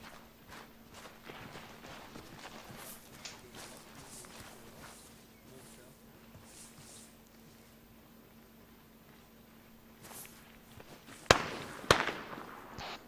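Gunfire in a combat outpost setting: distant cracking shots scattered across the stretch, then two sharper, louder reports near the end, with faint ambient noise and movement around them.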